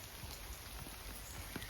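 Rain falls steadily in woodland, a dense even hiss of drops with faint scattered patters on leaves, continuous and close, with no voices.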